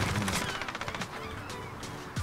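Automatic gunfire in a shooter video game: a rapid, rhythmic run of shots in the first second, then scattered lighter bursts and a short sound at the end, with no talking.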